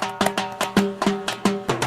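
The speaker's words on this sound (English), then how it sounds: "we have this drum roll that sounds like this" An amapiano pre-drop drum roll rattles out rapid, evenly spaced hits under a sustained tonal layer, building steadily over a couple of seconds with no voices.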